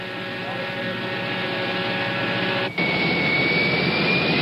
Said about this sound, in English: To get around, the Zeppelin uses a chartered 707, the kind of plane President Nixon uses.